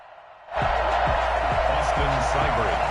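A stadium crowd in an EA Sports NFL football video game swells in abruptly, then holds a steady roar of cheering with a few dull thumps underneath.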